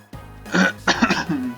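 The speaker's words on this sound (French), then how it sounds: "Excusez-moi si je tousse" A couple of harsh, close coughs in quick succession, throaty and abrupt, with a short rasping clearing sound trailing after.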